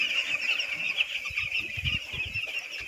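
Young chicks being reared chirp and cluck continuously at close range, a dense high-pitched chatter over soft low rustling and faint wing flutters.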